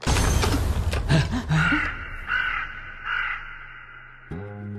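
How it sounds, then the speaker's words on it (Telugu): A crow caws several times in short harsh bursts, loud and near at first and then fainter repeated calls, before a low musical tone enters at the end. "కాకి ఈ రోజు ముద్ద పెట్టలేదమ్మా?"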